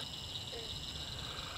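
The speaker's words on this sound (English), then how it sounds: "Heard the frogs and the crickets all night." Frogs croaking near a river sandbar at night while camping, a faint continuous chorus with a steady high insect-like trill, no talking.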